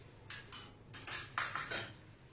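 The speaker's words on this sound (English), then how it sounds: "Now we'll again whisk this" A whisk clinks against a bowl while mixing a sauce with homemade chili flakes, a few quick metallic taps in an uneven rhythm, close and moderately loud, with no talking.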